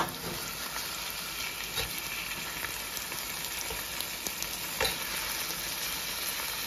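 Tomato frying in a pan for catfish choka sizzles steadily and loudly, a continuous hiss with faint crackles and pops and no talking.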